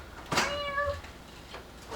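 A single clear cat meow rises and falls near the start, bright and close, followed by a faint room hush with a softer trailing breathy sound, with no talking.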